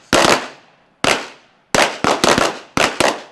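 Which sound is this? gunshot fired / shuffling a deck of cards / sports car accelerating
gunshot fired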